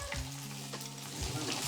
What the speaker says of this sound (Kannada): ಮೆಣಸಿನ್ಕಾಯಿ ಫ್ರೈ ಆದ್ರೆ ಸಾಕ್ರಿ